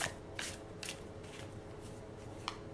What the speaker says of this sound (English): So now I am going to shuffle these cards.